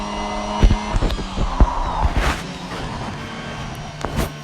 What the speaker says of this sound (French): on va directement prendre l'aspiration sur Vettel